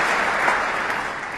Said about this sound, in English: Appreciated by this vast crowd in here this evening in the auditorium.